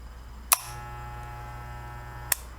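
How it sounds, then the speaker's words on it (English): Two sharp mechanical clicks, the first soon after the start and the second near the end, over a low steady electric hum. "When I turn the corded seniors on, you'll hear like a click at first."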